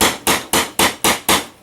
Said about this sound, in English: I'm going to take my little hammer